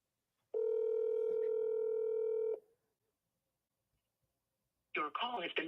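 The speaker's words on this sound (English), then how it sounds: "but this time it's ringing." A steady telephone tone sounds on a call line for about two seconds before cutting off, followed by silence and then a recorded voice speaking over the line.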